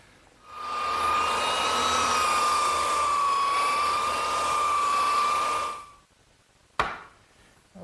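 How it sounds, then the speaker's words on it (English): A belt sander drones steadily on wooden worktable top boards for about five seconds, a loud sustained whine that winds down, followed by a sharp knock. "now's the time for me to take my belt sander and smooth it out"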